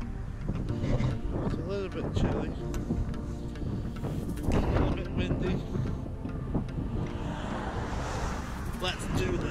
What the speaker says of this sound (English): Welcome to the top of a very windy Mam Tor.